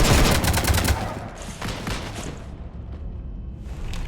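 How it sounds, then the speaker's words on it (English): Gunfire raking a ship in Mass Effect 3: dense, loud rapid-fire shooting that tapers into scattered shots and a lingering rumble. "You want to stop shooting up my ship?"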